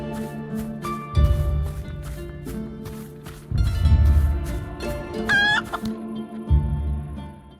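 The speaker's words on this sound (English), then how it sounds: "you can find a certain chicken that, if you chase, will do this" A chased video game chicken on a farm clucks in rapid agitated bursts over a tonal musical background, with running footsteps and a rising whistle-like sweep near the end.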